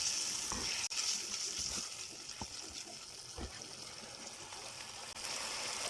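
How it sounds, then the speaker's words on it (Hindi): Tomatoes frying with spices in a pan over medium heat for Bannu painda, a steady close sizzle with occasional stirring scrapes throughout, no talking. "अब हम इसमें ऐड करेंगे टमाटर। तकरीबन 5 मिनट के लिए हम इसको मीडियम आंच पे"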